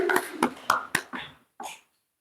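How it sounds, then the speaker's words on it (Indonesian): Hands clapping in a classroom, about five distinct sharp claps in an uneven rhythm that slows and trails off, close and moderately loud, with no talk over them. "Ya, tepuk tangan untuk kita semuanya"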